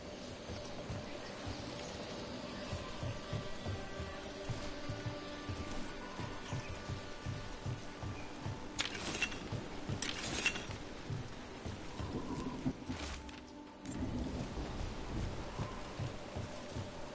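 Steady rain in the video game Dragon Age: The Veilguard, a constant soft hiss with occasional low rumbles and faint clinks, ambient and fairly quiet throughout.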